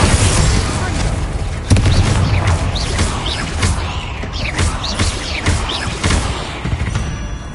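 Spell explosions from Confringo and Bombarda in Hogwarts Legacy, a dense run of booming blasts and sharp impacts over a rumbling low end, with chittering creature cries scattered throughout a chaotic fight.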